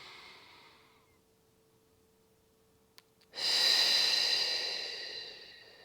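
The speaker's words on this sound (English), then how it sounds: "Take two more, deep breath in." A soft inhale fades out, then after a brief quiet gap comes a loud, close, breathy exhale during a mat Pilates exercise, held for a couple of seconds and slowly tapering off.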